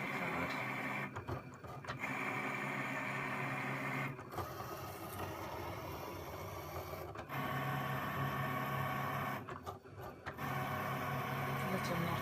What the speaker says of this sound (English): once that's done, it should be cutting around the actual main shape of the card